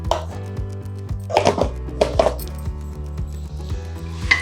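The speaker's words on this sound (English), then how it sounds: "Give a good stir" A wooden spoon scrapes and knocks against a pot as Venn Pongal is stirred, a few clustered clatters and scrapes over a low steady hum, close and moderately loud.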